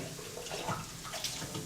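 Hot water pours steadily into a cast iron pot, a soft continuous splashing rush, fairly quiet and close, with no talking.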